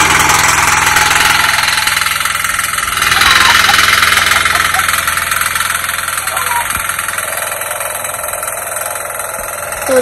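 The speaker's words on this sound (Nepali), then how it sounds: "ट्र्याक्टर आएर जोत्नु थाल्यो।" A tractor plowing a field, its engine chugging in a loud, steady drone close by that swells briefly partway through, with no voices over it.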